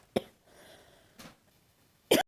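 Three sharp coughs spaced apart, the last the loudest, with quiet room noise between them.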